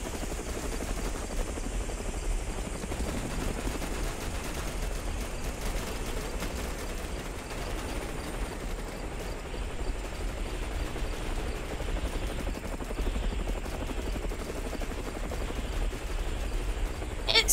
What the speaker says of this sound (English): want to get in the helicopter and see, like, have a fly around